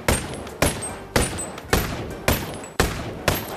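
Gunfire in a video game rings out as seven evenly spaced, loud single shots, each with a sharp attack and a decaying echo, about half a second apart.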